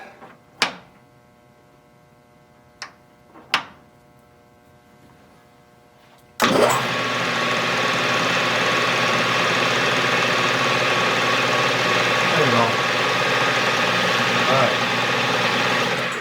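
A small homemade lathe starts up after a few sharp metallic clicks, then runs steadily with a constant mechanical whine and a persistent rattle, close and loud.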